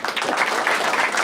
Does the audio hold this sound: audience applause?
yes